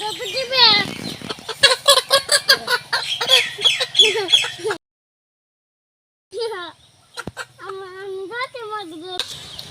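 A chicken clucks and squawks repeatedly up close, with a brief silent gap before the agitated clucking resumes.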